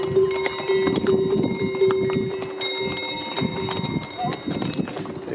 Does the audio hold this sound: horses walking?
yes